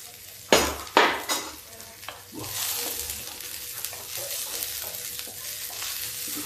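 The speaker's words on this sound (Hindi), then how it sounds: "अब इस प्याज को हल्का हम भून लेते हैं।" Onions stir-fried in a pan for an Indian chickpea and wheat dish, with two sharp scraping strokes and then a steady, close, moderately loud sizzle.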